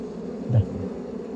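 A brief buzz of honey bees swells up close for a moment over a steady low background hum.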